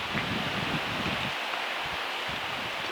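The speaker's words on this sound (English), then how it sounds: "A little breezy" Breezy outdoor wind blows steadily along the Adirondack Railroad on a cold day in the low 40s, a broad rushing hiss with gusty low rumbles buffeting the microphone, and no voices.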